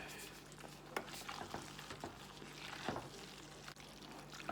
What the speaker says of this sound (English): we're gonna stir that up. Stir it all around.